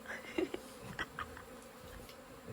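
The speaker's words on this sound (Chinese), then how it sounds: "这个蜜蜂还是蛮温和的嘛" Honeybees buzz faintly around a bait hive set at an old house, a few soft, short hums rising and fading over quiet background noise.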